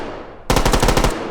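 Bots in the VR shooter H3VR open up with a rapid automatic burst of about a dozen sharp, loud shots that ring out after a brief quiet lead-in.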